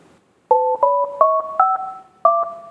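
A seven-note phone dialing jingle for an insurance hotline: crisp two-tone beeps in a stepped rising pattern, a run of five and then a final pair after a short pause, clean and loud with no talk.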